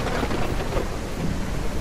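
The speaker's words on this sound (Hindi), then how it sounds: "बहुत तेज बारिश हो रही है।" Heavy rain pours down steadily at a ranch, a loud, dense hiss with low rumbling thunder beneath it throughout.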